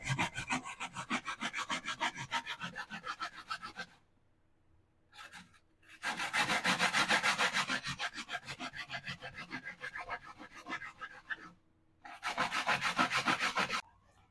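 Grating for Jamaican grater cake, likely coconut, makes a steady close rasping scrape in repeated rhythmic strokes, broken by two short pauses and a brief tap, with no talking.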